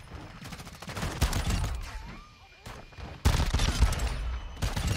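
Rapid shotgun blasts from the MX Guardian in Modern Warfare 2 fire in quick bursts among game effects, a busy stretch of shooting, a pause, then another flurry.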